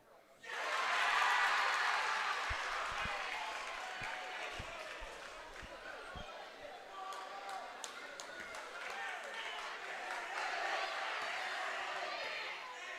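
Basketball crowd at a tournament game roaring after a made free throw, a loud sustained cheer swelling near the start and holding steady, with scattered claps and thumps underneath.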